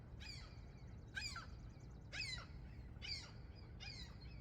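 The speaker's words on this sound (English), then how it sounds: "Seagull." A seagull calls in a park, giving five harsh, descending squawks at roughly one-second intervals over a low, steady outdoor rumble, fairly faint and with no voices.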